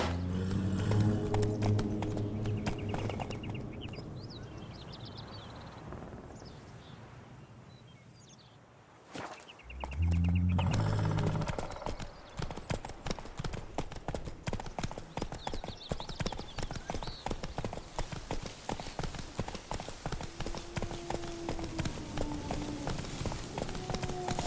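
The Witcher 3 horse Roach rides along with steady rhythmic hoofbeats and a whip-like crack, after a brief lull, continuing at a brisk pace over background game sounds.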